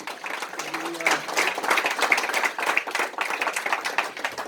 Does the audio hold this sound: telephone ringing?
no